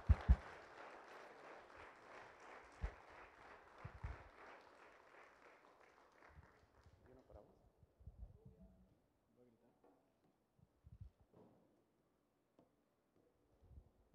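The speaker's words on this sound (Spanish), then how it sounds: "Un aplauso para el Señor." A church congregation applauds for several seconds, the clapping fading away into quiet room noise and scattered faint sounds.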